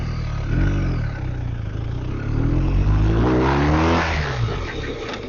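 A police car runs hard through a competition braking manoeuvre using the front-load technique, its engine droning loud and steady with rising and falling revs and a brief surge near the middle.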